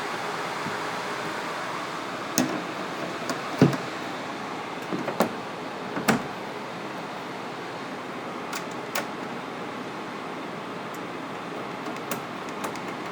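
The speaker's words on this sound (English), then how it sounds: "what you're hearing is every single GPU under full load after numerous loops of Unigen's Valley benchmark" Three GPU fans in SLI under full benchmark load in a PC case give a steady whooshing drone, with scattered sharp clicks and taps on top of the constant airflow.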